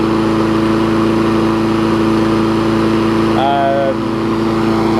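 An older MTD 3.5 horsepower small engine runs at a steady idle with a strong, even hum, nearby and loud; a brief sweeping sound intrudes near the end.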